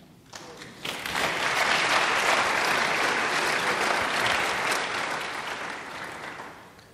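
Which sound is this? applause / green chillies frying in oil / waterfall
applause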